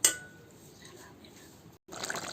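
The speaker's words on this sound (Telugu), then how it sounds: "గ్రేవీ కోసం కొంచెం ఎసరు పోసుకోవాలండి" Water is poured into a pot of chicken pulusu gravy during cooking, making a soft, steady close pouring and bubbling hiss that breaks off briefly before resuming.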